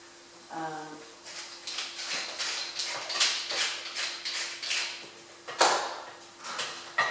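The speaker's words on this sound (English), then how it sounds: "then I'll just grind in some pepper" A pepper grinder turns over a pot of spaghetti bolognese, making a close rhythmic gritty crunching of repeated twists that runs for several seconds after a brief voice.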